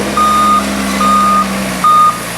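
A 414S loader reverses with three evenly spaced, loud electronic beeps over a low diesel engine drone, heard close.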